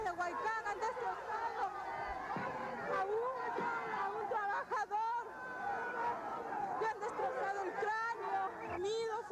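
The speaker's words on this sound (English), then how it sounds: "Now the crowd's going mad." Agitated protest crowd in a chaotic street scene, a dense din of shouting, screaming and crying voices rising and falling close up, with sharp cries breaking out over the continuous roar.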